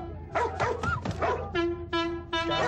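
A dog gives a run of close, loud yips and whimpering barks, several quick calls in a row, with no speech.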